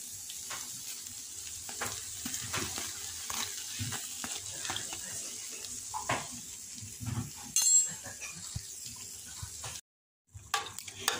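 Dough sizzling and puffing in hot oil in a pan, a soft steady frying hiss with faint spatters and occasional clinks, heard close and quiet with no talk.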